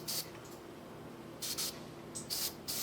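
Short hissing blasts from a spray can misting red paint onto a miniature, several quick separate bursts close by, quiet between them.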